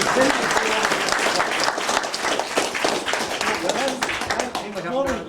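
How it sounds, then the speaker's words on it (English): Loud, sustained applause from an audience at a scoraíocht gathering in Kealkill, dense clapping throughout, with a few voices rising over it toward the end. "you'll give him a round of applause there."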